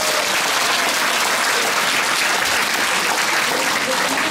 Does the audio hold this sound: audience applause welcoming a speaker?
yes